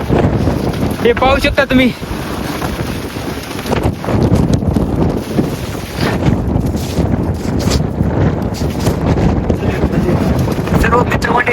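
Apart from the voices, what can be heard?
strong wind at Kalsubai peak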